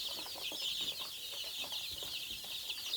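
Poultry-farm chickens cluck and chatter continuously at close range, a dense flock with overlapping bursts and no talking.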